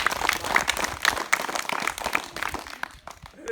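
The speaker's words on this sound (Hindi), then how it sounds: "आप लोग ताली बजा दो जरा।" A group of children clap together at a school awareness session held at a cow shelter, giving a burst of uneven, overlapping claps that thins out and stops near the end.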